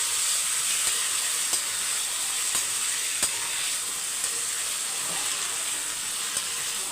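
Four ripe tomatoes and onions sautéing in a pan for a masala, a loud, even, close sizzle with a few faint clicks of a utensil spaced through it.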